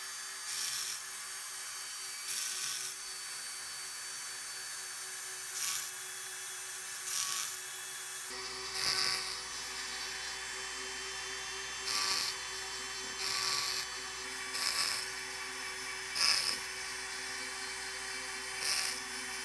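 High-speed power carving tool shaping a small wooden snowflake ornament, a steady whining hum with repeated rasping bursts as the bit bites into the wood, close and alone.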